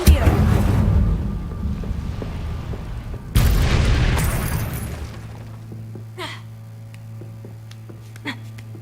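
An Incendio fire spell is cast in the Hogwarts Legacy video game, with a loud whooshing burst at the start and a second heavy boom partway through that fades into a low hum and scattered effects.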